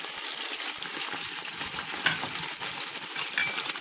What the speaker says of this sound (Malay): kacau lah sehingga naik bau